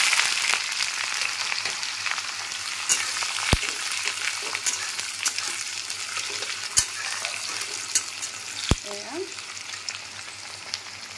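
Chopped onion frying with cumin seeds in hot oil, a bright, constant crackling sizzle punctuated by a few sharp spatula clacks against the pan, with a low steady hum beneath.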